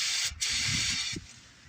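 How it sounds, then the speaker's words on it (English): Carb cleaner sprayed from an aerosol can into the engine of a cheap Chinese-made mini bike: a close, steady hiss lasting most of the moment, broken by one brief gap. "We'll give her a nice little healthy dose of the carb cleaner"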